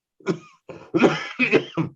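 A burst of harsh coughs, four or five in quick succession, close and loud, with a brief gap after the first.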